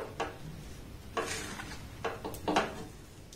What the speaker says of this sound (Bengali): এবার জলের সাথে সমস্ত উপকরণ এইভাবে একটু আমি নাড়াচাড়া করে নেব।